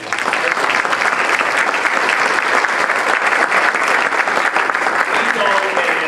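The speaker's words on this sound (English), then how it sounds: "I would like to applaud our entire staff." A church congregation applauds the staff during a Sunday sermon, with loud, sustained, evenly dense clapping from the whole room and no break.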